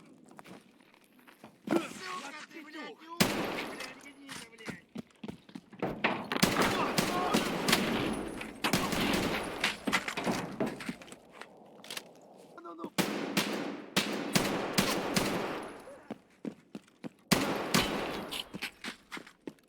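Unsuppressed rifle fire from a DMR build in Escape From Tarkov on the Factory map, loud sharp shots in single reports and short bursts, some quick volleys, with footsteps and movement between them.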